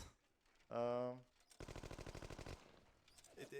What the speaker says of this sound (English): we're shooting a Tommy gun with infinite ammo